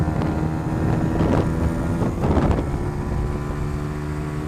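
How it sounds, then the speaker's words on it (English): A Lexmoto Adrenaline 125 motorcycle races downhill at speed, its steady engine drone buried under heavy, continuous wind rush across the microphone, with no voices. "you can't deny that this thing is getting some pretty good speed on it"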